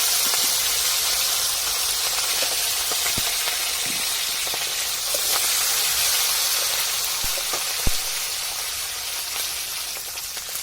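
Shrimp and white cumin seeds fry in hot oil in a home kitchen, giving a steady broad sizzling hiss with a few faint clicks and one sharp pop, close and continuous.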